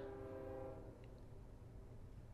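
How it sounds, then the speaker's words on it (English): A train passing outside a home near the tracks sounds its horn in a sustained, fairly faint blast, then the rumble of rail cars continues as the horn fades. "There's a train outside."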